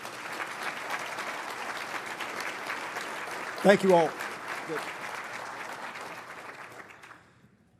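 An audience at a military professional development forum applauds for a Master Sergeant, steady clapping that swells briefly as someone speaks a few words over it, then fades out.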